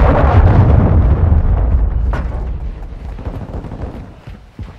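A missile blast in Call of Duty: Modern Warfare II, a loud, deep booming explosion that rumbles heavily at first and then slowly fades over several seconds, with a faint crack partway through.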